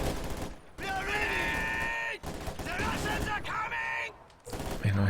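LMG Grenadiers' machine gun fire in Company of Heroes 2, rattling bursts of gunfire that cut in and out, heard beneath someone talking over the battle.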